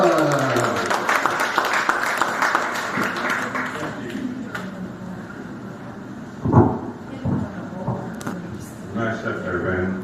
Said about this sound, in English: Clap for Doug